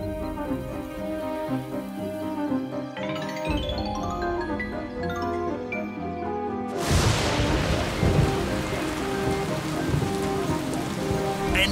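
Gentle tonal music plays, then heavy rain suddenly bursts in and keeps pattering loudly over a low rumble of thunder.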